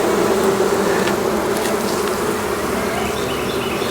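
Honey bees buzz densely around an open hive frame holding brood and honey, a close, continuous drone filling the whole stretch with no voices.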